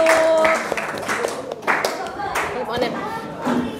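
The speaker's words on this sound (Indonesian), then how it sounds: "tepuk tangan untuk kelompok 1" A group of people claps for a classroom group in a training session, with a scattered, moderately loud round of clapping mixed with voices talking throughout.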